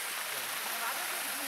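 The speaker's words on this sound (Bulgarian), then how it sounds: "водопада на Добърско." The waterfall at Dobarsko village gives a steady, even rush of falling water, a soft continuous hiss heard from a short distance with no break.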